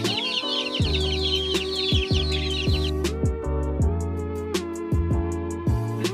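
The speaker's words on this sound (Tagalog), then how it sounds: "there is a chicken here laying eggs" A native chicken in a cage clucks repeatedly while laying eggs, its calls close and loud in a steady, pulsing rhythm, with other caged fowl chattering at first and tapping sounds behind.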